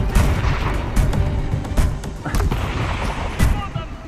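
Explosions and bursts of gunfire in the VR combat game Phantom: Covert Ops, a grenade blast among repeated loud booms and shots in a steady barrage, with a voice briefly calling out.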